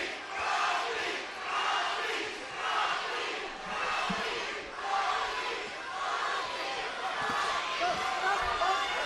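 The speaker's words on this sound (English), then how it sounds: "Here comes the crowd chanting Rocky" Spectators at a boxing match between Rocky Juarez and Robinson Castellanos chant "Rocky" in a steady rhythmic cadence, with regular surges of massed voices that sound distant but fill the arena.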